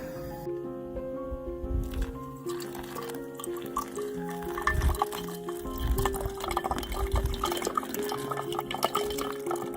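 Water trickles and splashes as it is poured for pour-over coffee at a campsite. The soft liquid pouring sits beneath louder background music.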